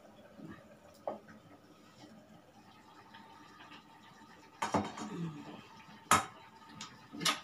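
A small clay cooking pot and a small spoon clink together in a few sharp, close knocks spaced a second or more apart, over a quiet kitchen background with no talking.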